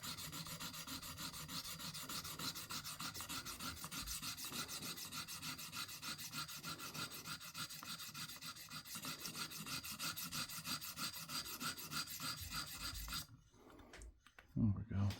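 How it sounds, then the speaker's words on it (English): A hawkbill knife is sharpened on a KME sharpener, the stone rasping across the blade in steady, close strokes that continue evenly before stopping near the end, followed by a few brief handling knocks. "I can show you how to sharpen a knife"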